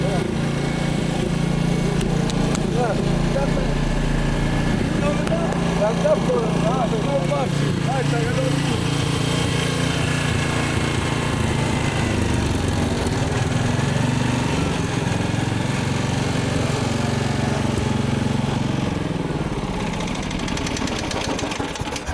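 A motorised grass cutter runs continuously close by with a steady, rough engine drone. Voices talk over it throughout.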